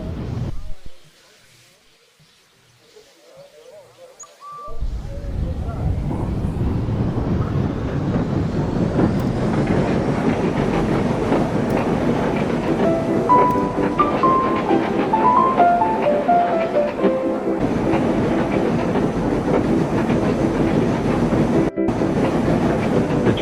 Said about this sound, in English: the two engines never gave up. They continued on and made it to the station.